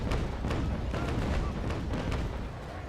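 Cannon fire thunders from a frigate in Naval Action Legends, a steady stretch of heavy booms and low rumble sustained for a few seconds, loud and close with no voices.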